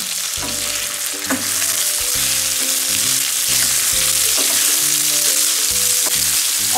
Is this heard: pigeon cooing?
no